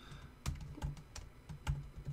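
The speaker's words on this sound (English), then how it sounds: "we're essentially typing it out the exact value we want for all of these bars" Computer keyboard typing at close range, a handful of distinct key clicks at an uneven pace while values are entered into a Tableau chart, with no talk over it.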